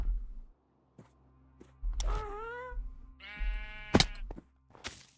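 Minecraft sheep bleating on a rooftop, two distinct quavering bleats separated by a pause, close and clear amid sparse game clicks and low ambient hum.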